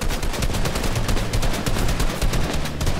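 Rapid automatic gunfire sprays down from above in a Fortnite-style box fight, dense rattling bursts of shots firing almost continuously and loud throughout.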